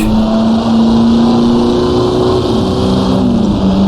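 Vintage race car accelerating out of a hairpin at Gnoo Blas circuit in Assetto Corsa, a loud close engine drone climbing steadily in pitch under full throttle, alone with no voices.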